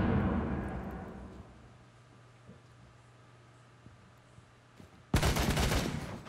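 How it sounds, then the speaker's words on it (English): A flashbang grenade in a video game goes off late in the clip as a single sudden, loud, sharp burst. Before it there are only quiet game ambience and a few faint clicks. "Flashbang out!"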